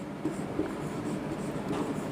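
Chalk or marker scratching on a classroom board during a Hindi grammar lesson, a steady close scraping texture with soft strokes and no speech over it.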